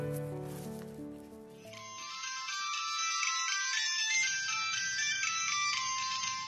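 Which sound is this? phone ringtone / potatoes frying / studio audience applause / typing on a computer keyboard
phone ringtone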